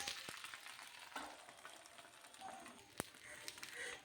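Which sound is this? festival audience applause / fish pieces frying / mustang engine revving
fish pieces frying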